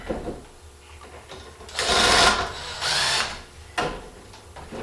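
A bolt is driven into a wall stud with a power tool in a shed, heard as two loud whirring bursts of about half a second each, then a short third burst, with quiet clicks between them.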